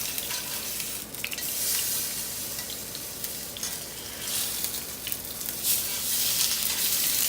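A delicate fish fillet, cooked skin side down for about three minutes, sizzles steadily in a frying pan with a bright, hissing crackle that swells in places and carries no speech.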